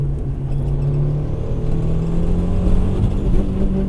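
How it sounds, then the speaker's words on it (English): A 1991 Mitsubishi Eclipse GSX, tuned to 450 wheel horsepower, revs hard with a steady, loud, low engine drone that builds slightly toward the end, with no voices. "You just have to be willing to beat the hell out of the engine. Yeah, you really got to wind it out."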